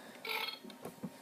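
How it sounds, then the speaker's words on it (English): A short burp sound effect, about a second long, with a loud throaty swell early on and a brief low croak near the end, heard on its own without talk. "There's a burp."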